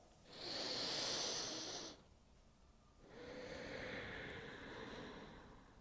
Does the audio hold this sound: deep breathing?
yes